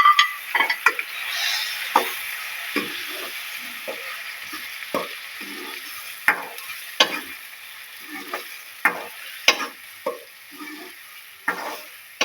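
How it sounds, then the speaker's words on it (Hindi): Two medium onions, chopped, fry in hot oil in a pan for a chicken kofta curry, giving a steady sizzle with intermittent stirring clicks and scrapes throughout, close and moderately loud. "ऑयल हमारा गर्म हो गया है। ये मैंने 2 प्याज थे मीडियम साइज के, इनको मैंने चॉप किया। चॉप करके मैं डाल दी है।"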